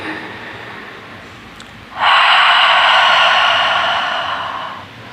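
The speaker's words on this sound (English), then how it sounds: "take a deep inhale through the nose and exhale through the mouth" During a yin yoga session, one long, close breath of about three seconds, a deep rushing of air that swells suddenly and then slowly fades.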